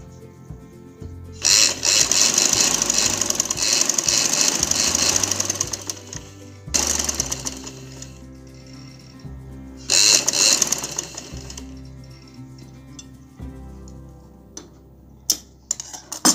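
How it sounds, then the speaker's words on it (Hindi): A sewing machine stitching a ladies' kameez, running in several bursts of fast rattling ticks with pauses and small mechanical clicks between runs, close and clear without talk. "इस तरह सारा इसको एंड तक सिलाई कर लेना"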